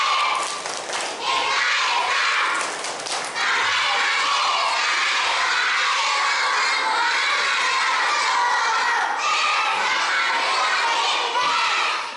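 A crowd of children claps and cheers loudly together, a dense sustained roar of shouting and applause that continues for several seconds.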